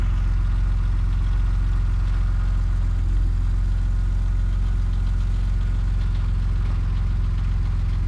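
A Porsche 996 Turbo engine idles while warming up with a steady low rumble, unchanging in pitch and loudness throughout, close by, with no voices.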